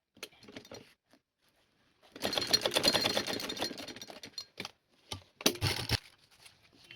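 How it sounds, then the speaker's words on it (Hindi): A sewing machine stitches across folded saree pleats in a short whirring burst of about two seconds, followed by a few brief mechanical clicks and rattles, close and quiet with no voices. "इस पे सिलाई मार लेंगे ऐसे"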